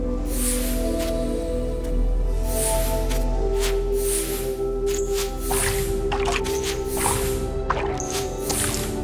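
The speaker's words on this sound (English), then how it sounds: "That's water." Water drips repeatedly in the video game Worldless, a steady series of close, wet plinks falling over a sustained, humming musical drone, with no one talking.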